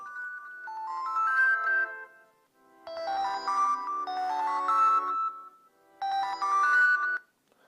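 A ringtone melody plays through the front speaker of a Motorola Moto E phone, in three bursts separated by short pauses, clear and alone with no talk.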